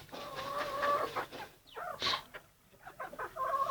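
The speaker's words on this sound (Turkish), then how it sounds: "Bunlar yeni çıkan horozlarımızdan" Several chickens and young roosters cluck close by in a farmyard, with overlapping short calls and brief pauses throughout.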